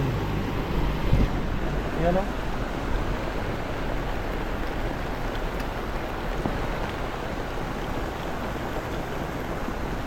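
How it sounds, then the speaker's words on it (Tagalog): Heavy rain pours steadily in a dark late-afternoon downpour, a dense even hiss running throughout, with a brief voice near the start. "Lakas talaga ng ulan mga kanepi."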